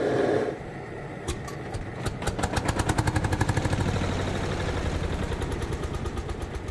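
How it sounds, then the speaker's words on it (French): A single-cylinder hot-bulb tractor engine from Vierzon runs close by, firing in a slow, even, pulsing chug that settles into a steady loud rhythm after a brief quieter start. "Avec ce tracteur monocylindre à boule incandescente"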